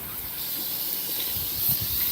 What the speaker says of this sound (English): I use this setting on my water hose to kind of spray down areas.